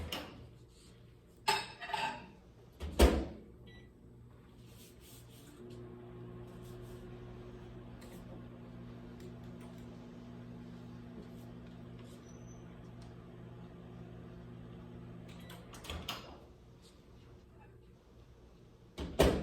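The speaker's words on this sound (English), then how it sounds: "And we'll just throw it in the microwave for just a little bit of time." A microwave oven hums steadily for several seconds while softening butter, bracketed by door clunks and clattering at the start and end.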